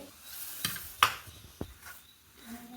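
Tadka tempering for MTR khaman dhokla sizzling in a pan, a soft steady crackle with a few sharp clinks and stirring taps at the start and middle, fairly quiet with no talking.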